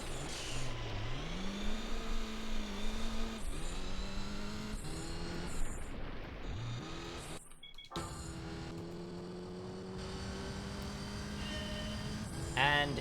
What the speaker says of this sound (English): the sneezing noise of the engine is pissing you off